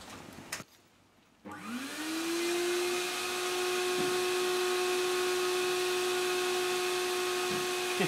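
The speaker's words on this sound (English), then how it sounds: "When we turn the pump on, it becomes a downdraft and you'll see that smoke disappear." A pump on a homemade gasifier generator unit starts after a brief quiet gap, then whines and hums steadily and loudly, drawing smoke back in, with a constant tonal drone and no voices.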